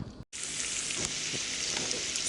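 Meat for a breakfast casserole fries in a pan, giving a steady, loud, close sizzle that starts after a brief silent gap and runs continuously with faint stirring pops.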